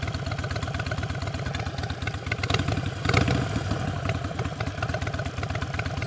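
Harley-Davidson Iron 883 motorcycle with a Stage 1 upgrade, its V-twin engine running steadily close by with a lumpy, pulsing idle and a brief rise in revs midway, with no talk.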